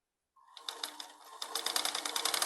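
An electric sewing machine stitches a kurti trimmed with lace, starting from silence and quickly building into a fast, steady, close-up mechanical whirr and rattle that grows louder and denser.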